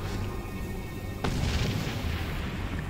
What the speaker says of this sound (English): Explosions. Just right off the bat.